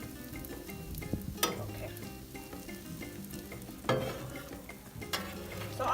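Smoked lamb omelette frying in a pan, a steady close sizzle with a few louder scraping or stirring accents, quiet overall, and a voice speaks briefly once.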